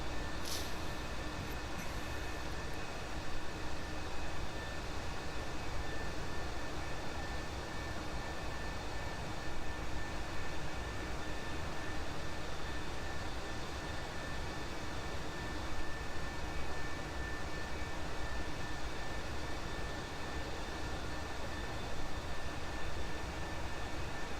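A military jet's engine in the DCS combat flight simulator drones continuously while the aircraft refuels, a steady broadband roar with a faint high whine, unchanging and alone for the whole stretch.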